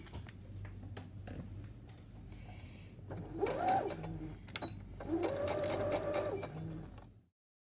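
A sewing machine stitches fabric pieces of a drawstring backpack, running in short mechanical bursts with a rapid whirring rattle, pausing between runs and stopping abruptly at the end.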